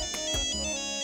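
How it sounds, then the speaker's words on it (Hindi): A phone ringtone plays alone, a steady electronic melody with repeating tonal notes, clear and close. "मिसेस मालती का फोन है, पूछती हूँ एग करी कैसी लगी।"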